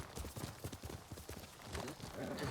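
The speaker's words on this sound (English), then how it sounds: "And summoning my horse," A summoned horse gallops in the video game Ghost of Tsushima, with rapid rhythmic hoof clip-clops drawing close, fairly quiet, and a person talking over it.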